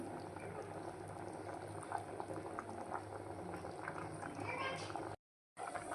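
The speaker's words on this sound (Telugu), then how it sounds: "ఇట్లా ఒక త్రీ మినిట్స్ ఉడకాలండి" Sweet potato and sago payasam bubbles in milk in a pot, a steady close simmer with a brief voice over it, then a short gap of silence near the end.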